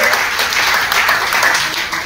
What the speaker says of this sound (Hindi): एक बार तालियां हो जाए शाखा के लिए।